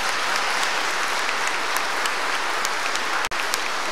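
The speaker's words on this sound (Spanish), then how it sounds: "Un gran aplauso, que se sienta." A congregation applauds at a church confirmation celebration honoring Monsignor Cisneros' fifty years as a priest. The clapping is dense and sustained throughout, with a brief dropout near the end.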